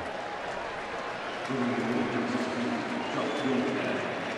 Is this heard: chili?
no